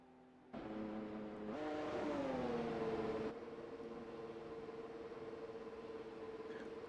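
An iRacing race car rolls down the pit lane at limited speed, its engine building after a quiet start, revving briefly, then settling into a steady, even hum, with no talking.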